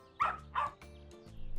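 A dog gives two sharp barks, close and loud, over a soft steady musical backing that continues after the barks.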